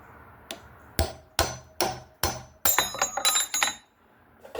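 A hammer taps a friction-held drill bit out in a vintage workshop: a handful of sharp metallic strikes at a steady pace, then a quicker cluster of ringing clinks, close and clear with no talk.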